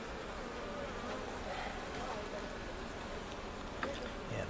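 Honey bees hum around an opened beehive during a hive inspection, a steady, dense buzzing that fills the whole clip with individual bees passing close, while people talk quietly in the background.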